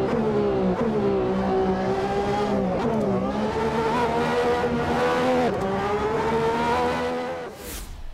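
Le Mans race car with a Cosworth 6.5-liter naturally aspirated V12 screaming at high revs, loud and sustained, its pitch rising and dipping through gear changes before a brief fade at the end; no talk.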